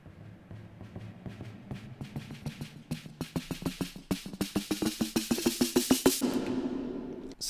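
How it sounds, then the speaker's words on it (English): A snare drum buildup with automated reverb rolls faster and faster, hits growing louder and denser into a rapid roll before washing out, over a low sustained bass tone. "to build up to the chorus, I have added this drum buildup."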